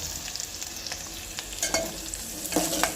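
Onion frying in a pan while being stirred for masala dal, a steady close sizzle with scraping strokes of a spoon, no voices.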